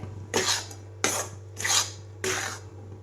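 Melted jaggery is scraped from a pan on a switched-off gas stove while making dink laddoos, with four distinct rasping scrapes of a spoon against the metal, each a half-second long, over a low steady hum and no talking.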